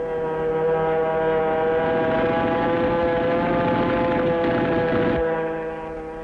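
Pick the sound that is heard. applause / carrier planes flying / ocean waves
carrier planes flying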